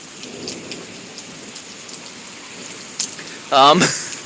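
Thunderstorm near Pittsburg, Kansas: steady rain hiss throughout, with a loud close thunder crack bursting near the end and rolling briefly, no talk.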